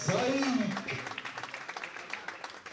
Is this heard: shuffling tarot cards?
no